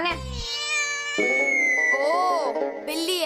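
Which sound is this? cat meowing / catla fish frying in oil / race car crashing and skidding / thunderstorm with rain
cat meowing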